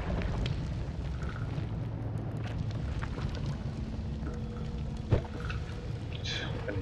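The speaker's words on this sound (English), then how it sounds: "I'm using the bombs." Bombs go off in the video game Noita as a continuous low, crackling rumble of explosions with a sharper pop partway through, moderately loud with no clear pauses.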